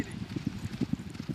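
Horse hooves clip-clop in a quick, uneven rhythm on a polo field in Argentina, faint and somewhat distant over a soft background hum.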